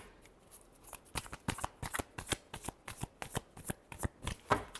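Tarot cards being shuffled by hand close up: a rapid run of crisp riffling flicks and soft slaps in a quick uneven rhythm, fairly quiet and with no voice over them.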